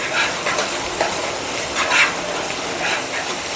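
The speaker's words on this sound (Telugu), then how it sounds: "మసాలాలు, ఈ టమోటా, ఆనియన్, కారం అన్నీ బాగా ఫ్రై అయిపోవాలి." Onion, tomato and chili powder masala for a drumstick curry fries in oil while being stirred, a steady close sizzle with repeated scraping strokes of the spoon through the pan.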